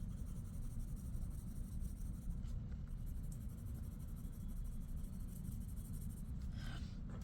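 Coloured pencil shading over paper, a steady soft scratchy rubbing that carries on continuously at close range with no voices.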